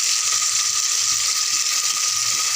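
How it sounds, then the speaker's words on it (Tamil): Tomatoes sauté in a pan with softened onions for a vegetable kurma, giving a steady, close, even sizzle and hiss that runs unbroken from start to finish with no talking. "தக்காளி நல்லா வதக்கிக்கலாம்."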